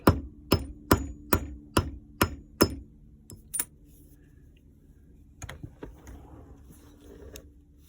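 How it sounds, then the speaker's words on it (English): Six sharp metallic hammer taps in a steady rhythm on a brass tube on the axle of a Bachmann large-scale 4-4-0/2-6-0 model locomotive, followed by a few scattered clinks and knocks, close and clear with no talking. "just give it a few taps with a hammer, and it should come off"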